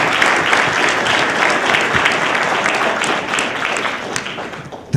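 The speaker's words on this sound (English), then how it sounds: "he deserves a round of applause" A roomful of people at an industry expert panel event give a sustained round of applause, dense steady clapping throughout, loud and close, without voices.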